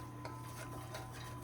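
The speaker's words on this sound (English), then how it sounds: "So just keep stirring it until you think the flour is cooked out, cooked down." Butter and flour stirred in a pan while making a roux for a lemon cream sauce: a soft, continuous scraping and swishing, quiet and close over a low steady hum.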